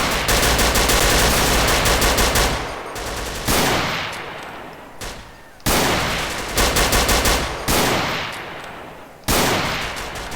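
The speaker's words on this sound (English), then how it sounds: "J'avais pas encore entendu le bruit du sniper avec le mode tir réaliste" Sniper rifle fire in Grand Theft Auto IV with realistic gunfire sound enabled, heard as loud sustained bursts of shots, each cut off abruptly and separated by short pauses. No one speaks.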